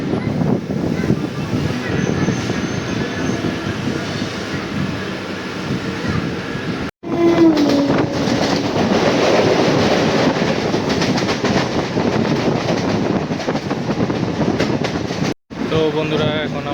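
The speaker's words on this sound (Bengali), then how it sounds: "আমাদের ট্রেন ঢুকে গেল এখন বিধাননগর রোড" A suburban train from Sealdah on the Taki Road line, approaching Bidhannagar Road, gives a loud, steady rumble heard from inside the carriage, broken by two brief dropouts.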